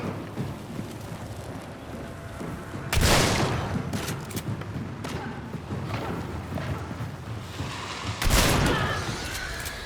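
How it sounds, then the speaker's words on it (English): Frag grenade explosion in Hunt: Showdown: two heavy booming blasts several seconds apart, each a loud broadband burst with a trailing rumble, over outdoor wind noise. "I'm going to be charging the fuse on the frag grenade before I actually peek that corner"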